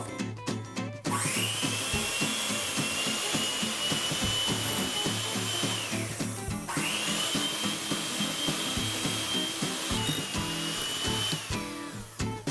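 An electric mixer creams cannabutter and sugar, a steady whining motor drone that runs continuously near the microphone and briefly stops and restarts midway.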